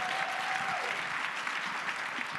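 Audience applause at a women's professional summit, a dense steady wash of clapping from a large crowd, loud and continuous throughout with no speech.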